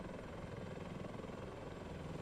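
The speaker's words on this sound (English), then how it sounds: "Combat helicopter game." A combat helicopter in a video game drones with a steady rotor thrum and low rumble, continuous and moderately loud, with no voices over it.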